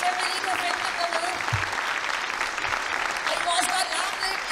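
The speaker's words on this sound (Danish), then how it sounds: "Skal vi ikke se, vi kan klappe af dem hele vejen ned ad scenen?" An audience at a spring school concert by a Lolland music school claps in sustained, fairly loud applause that fills the hall steadily, with faint voices mixed in.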